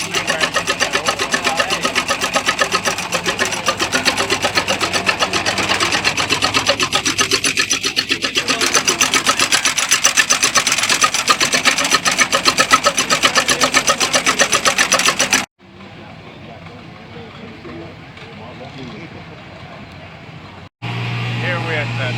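A 1568 International tractor with a V8 engine idles and runs at a farm park show, a loud steady mechanical drone that keeps up before dropping off abruptly, then returns briefly.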